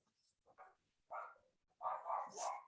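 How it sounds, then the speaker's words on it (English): A dog barks a few times nearby, short separate yaps followed by a longer burst of barking, fairly faint indoors. "I have a dog. Yeah. Can you hear that?"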